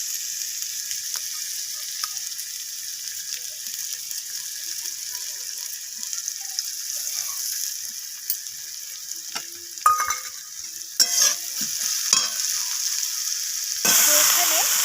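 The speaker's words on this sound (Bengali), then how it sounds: "পেঁয়াজটাকে এইভাবে ভেজে নিচ্ছি একটু লালচে" Thinly sliced onion frying in a pan with tempering spices, a steady hiss with intermittent clinks and scrapes of stirring that grow busier toward the end.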